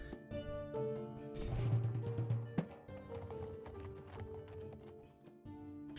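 Horses of an expedition ride in the video game Six Ages, with clip-clop hoofbeats over a soft musical backdrop, moderately quiet and without speech.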